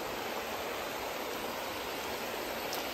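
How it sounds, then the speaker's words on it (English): Stream water flowing near Dovestone Reservoir on a hill hike makes a steady, dense rushing hiss at moderate level, unbroken and without voices. "Love the sound of water here."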